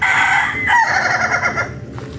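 A fighting rooster kept for shows crows loudly and close, one long drawn-out cock-a-doodle-doo with a strained ending, alone with no talk over it.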